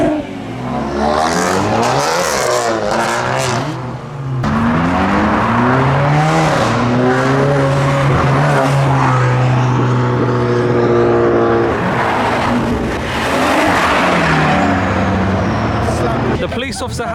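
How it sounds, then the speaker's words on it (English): Modified BMW M140 cars rev hard at a car meet, loud engines rising and falling in repeated sweeping pulls with deep exhaust drone, close and continuous, with crowd voices mixed under them. "We've got a couple M140s revving with the lit car just there."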